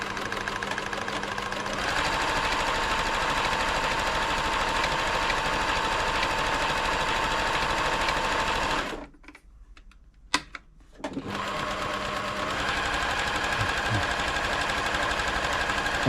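A Pfaff 1139 sewing machine stitches with a fast, steady mechanical chatter, close and continuous, stopping for about two seconds midway before running again.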